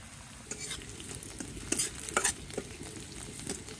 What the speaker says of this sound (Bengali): এই যে রসুন আর পেঁয়াজ একটু ভাজি হয়ে গেছে